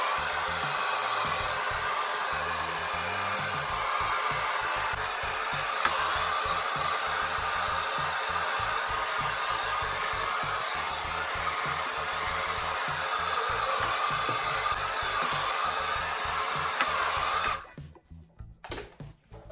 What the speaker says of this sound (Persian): پس من سشوار در حد خشک کردن انجام میدم